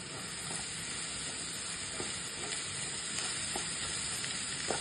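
Tondli (ivy gourd) bhaji with ginger garlic paste and salt being stirred in a pan, a steady even sizzle and hiss with faint scraping under it, close and fairly constant, no speech.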